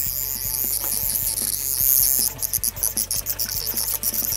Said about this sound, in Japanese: ほとんどアブラゼミですね